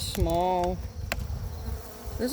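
Honey bees buzz close by with a droning hum that wavers in pitch, alongside some brief clicks and handling noise from a hive box.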